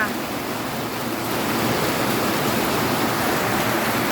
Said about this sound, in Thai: เปิดพัดลมให้วัว